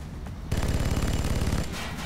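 Rapid automatic gunfire from a soldier in the XCOM video game, a dense burst of rattling shots starting abruptly and running for over a second and a half, loud and close with no talk.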